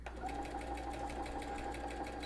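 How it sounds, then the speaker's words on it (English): A sewing machine fitted with an invisible zipper foot stitches steadily at close range, a continuous rapid mechanical whir with a fine rhythmic pulse and no talking. "we're just going to sew all the way up till we get to this"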